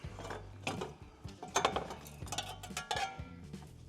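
Ratcheting and clanking mechanical work on a Ford Fairmont radiator fan, with quick bursts of metallic clicks and knocks close by, irregular and uneven in rhythm, no voices.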